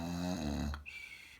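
A giant snores in a Jack and the Beanstalk tale, with one deep rumbling inhale-and-exhale snore followed by a short whistling tone, brief and fairly close.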